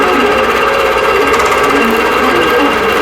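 Longarm quilting machine stitching a spiderweb pantograph pattern across a quilt, a steady, loud continuous mechanical whir with rapid needle chatter running unbroken throughout.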